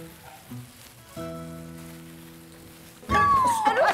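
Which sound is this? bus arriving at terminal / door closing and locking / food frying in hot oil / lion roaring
food frying in hot oil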